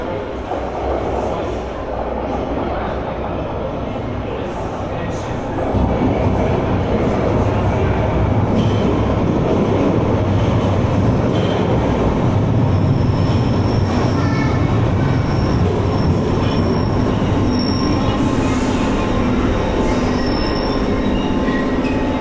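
A Piccadilly Line London Underground train pulls into a platform: a steady loud rumble of wheels and motors, with metallic squeals and clicks as it slows. An announcement voice speaks over it.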